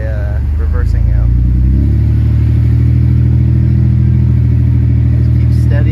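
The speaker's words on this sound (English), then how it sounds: "We're gonna try reversing out." A vehicle in two-wheel drive, on tires aired down for off-road driving, revs its engine while reversing out, a loud, steady low drone that swells after the first seconds and holds strong.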